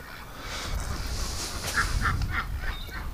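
Agitated ducks at a crowded duck rescue hospital give a run of short, nasal calls, about five bursts from 1.8 seconds on over steady low rumble and background noise.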